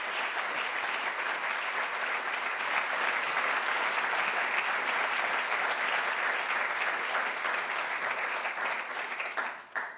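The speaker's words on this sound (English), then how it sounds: "could I have a very, very warm round of applause for Linda" A warm round of applause from an audience at a library education talk, a dense, even roar of many hands clapping that holds steady for the full stretch and breaks off abruptly at the very end.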